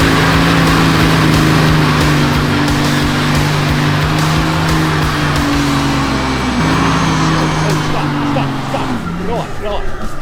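A cheap, slammed turbo V12 Mercedes with dry-rotted tires revs hard during a burnout, its loud steady engine drone shifting pitch near the end, while people talk over it.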